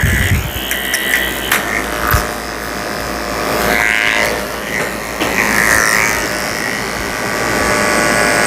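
Electric dog grooming clippers with a freshly sharpened, oiled blade trimming a Havanese's coat, a steady close buzzing hum with shifting tone as the blade moves through the fur, no speech.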